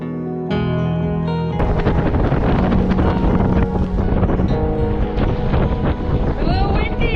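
Strong wind buffets the microphone at an off-grid cabin building site on Fin Island, British Columbia, a loud steady roar that runs through the whole stretch with no break.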